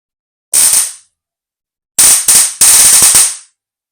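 A homemade DIY stun gun is tested and crackles with loud, harsh electric sparking. One short burst comes first, then a longer stuttering run of snapping arcs split by brief gaps.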